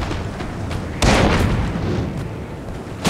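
Musket volleys and artillery fire in a Napoleon Total War battle between Britain and France, a dense rumbling barrage of overlapping shots with a sharp loud burst about a second in and another blast right at the end.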